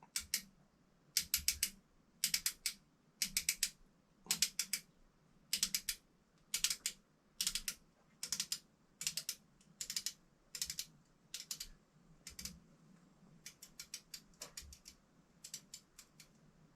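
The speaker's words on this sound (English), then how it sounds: "I'm going to go ahead and adjust the adjustment screw all the way out" Small rhythmic detent clicks as the adjustment screw of a Seekins Havak HIT rifle trigger is turned out, a steady series of sharp ticks in quick groups, close and quiet, with no talking.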